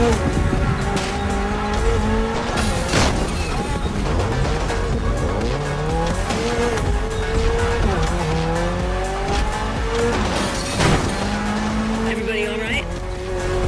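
A Mitsubishi Evo X in The Crew Motorfest revs hard with sliding engine pitch sweeps and tyre squeal, a loud continuous racing mix with other cars' motors and brief voices over it.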